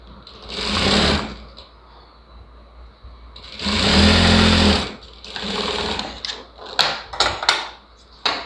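A sewing machine stitches a folded blouse lining in several distinct bursts: a short run, a longer loud whirring run, another medium run, then a quick series of brief stop-start stitches, each cutting off cleanly into near silence.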